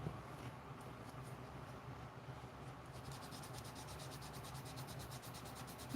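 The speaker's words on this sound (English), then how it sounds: "I'm using ultra fine sanding sponge in this area because I'm having to go along her suit line quite a bit" An ultra fine sanding sponge rubs steadily along the suit line at the neck of a figure, producing a close, quiet, continuous scratchy hiss that turns to faster rhythmic strokes in the second half.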